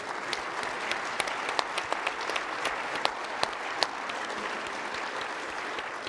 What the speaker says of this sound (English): Let's give them a round of applause for all that they're doing.